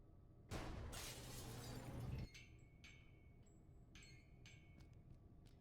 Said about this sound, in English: I got rid of the glass above the door to the lab.